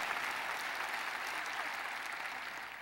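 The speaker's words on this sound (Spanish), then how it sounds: "démosle un aplauso al Rey" A church congregation applauds steadily for the King during a worship service, a dense, even wash of clapping that carries on alone and fades slightly at the end.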